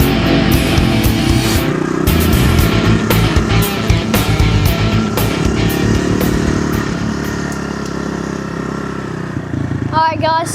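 Motorcycle ride captured on an Insta360 X3 and a DJI Osmo Action 4, with a steady close engine drone, wind rush and intermittent clatter throughout, rising and easing with the throttle.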